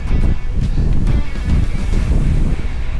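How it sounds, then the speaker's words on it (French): Steady, loud headwind buffeting a microphone while cycling uphill in the Beaujolais, a continuous low roar with gusty rumbles throughout and no voices. "Les vents en face là, il semblait qu'aujourd'hui ça devait être vent du nord."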